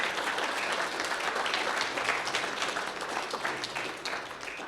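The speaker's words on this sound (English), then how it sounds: "A round of applause for a good man who is still smiling." An audience at a talk on mythology, cartoons and censorship applauds, a dense, even stream of many hands clapping that carries on steadily and eases slightly toward the end, with no talking.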